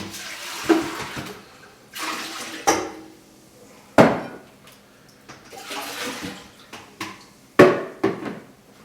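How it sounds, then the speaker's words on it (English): Water splashes and pours into a metal pot in several short bursts, with clattering and sloshing between them, close by. "We'll add a little bit more water in here."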